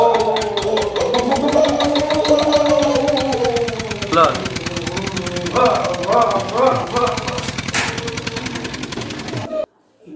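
A hand-cranked paint-mixing machine from Japan started and running: loud, rapid, engine-like chugging and knocking that carries on steadily, then cuts off abruptly near the end, with someone talking throughout.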